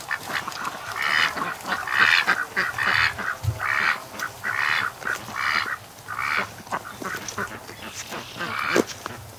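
Ducks quack near a fresh water supply on a property, a rapid run of loud, close quacks in repeated bursts with short gaps between them.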